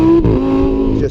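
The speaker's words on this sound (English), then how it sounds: "you see the revs build a little bit and the exhaust is a bit louder" A 2016 Lamborghini Huracan Spyder's naturally aspirated engine revs close and loud, its exhaust note holding steady with a brief dip as revs shift.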